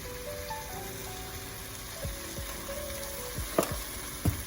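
Spices sizzle in a frying pan for vegetarian chili, a steady hot crackle with a few soft scrapes and knocks as a utensil stirs through the pan.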